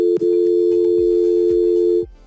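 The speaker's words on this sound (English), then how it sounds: "You'll hear a dial tone again after dialing that code." A phone dial tone sounds after a call-forwarding code is dialed: one steady, loud electronic tone holding for about two seconds, then stopping abruptly.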